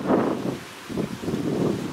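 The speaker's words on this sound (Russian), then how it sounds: "Какой сильный ветер. Порывы такие неприятные." Strong, gusty wind blows across an open vegetable garden in August, roaring into the microphone in uneven surges with a brief lull midway.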